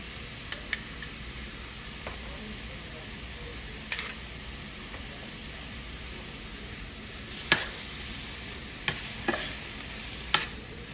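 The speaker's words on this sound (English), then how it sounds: "I'm just going to saute this until it has broken down, or until it's nice and soft." Onions, tomato and chopped jalapeno sautéing in olive oil give a low, steady sizzle with a few sharp ticks of a utensil against the pan.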